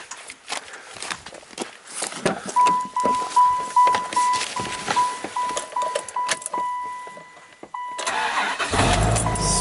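A 1995 Dodge Ram V10 pickup, after a cold no-start fix: a steady warning chime beeps over footsteps and handling noise, then the engine cranks and catches with a loud low roar that keeps running at the end.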